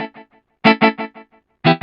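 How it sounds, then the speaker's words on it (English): A plucked guitar phrase through a twelfth-note delay, each note echoed in quick, fading repeats, producing a rhythmic stuttering bounce; clear and close, no speech. "So when we play our guitar line now, it sounds like this."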